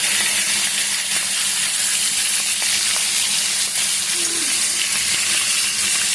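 Hilsa fish frying lightly in oil in a pan, a steady, loud, close hissing sizzle that holds evenly throughout with no talking.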